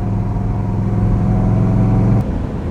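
A 1966 Iso Grifo 300 GL with a 4.5-litre Chevrolet V8 runs loud and close, a deep, steady throbbing rumble held at high revs, then cut off sharply near the end, leaving a lower idle.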